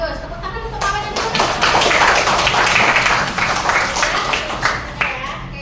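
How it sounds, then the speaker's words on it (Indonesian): Primary school classroom breaks into clapping for a student group, a steady patter of many small hands lasting several seconds, close by, with a voice speaking at the start. "Tepuk tangan untuk papanya dulu."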